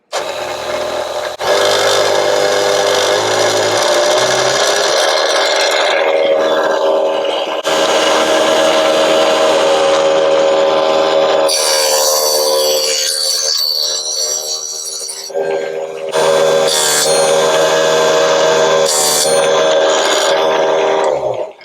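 A mini table saw spinning at top speed whines loudly in sustained bursts as it cuts small wood pieces, with short pauses and gear-like shifts between cuts.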